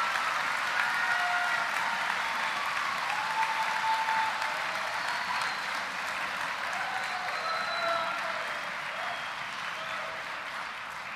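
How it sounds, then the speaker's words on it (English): Applause from a concert audience at a county high school honors concert: a dense, sustained wash of clapping from a large crowd that continues steadily and tapers slightly toward the end. "One more big round of applause, Dr. South."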